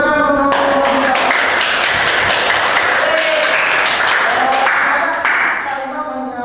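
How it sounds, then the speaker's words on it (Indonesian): Applause for a group of students presenting a classroom project, a dense wash of clapping from many hands that carries steadily for several seconds and starts to thin out toward the end. "Tepuk tangan untuk"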